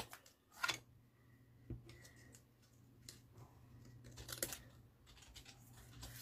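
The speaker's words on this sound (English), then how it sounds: "Pinch that, snip it off." Scissors snip paper during quiet papercraft work on a light-up Christmas mini album, with a few faint, short cuts and light handling taps spaced out against near silence.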